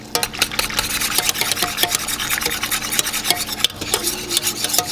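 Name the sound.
whisking homemade syrup for hoshaf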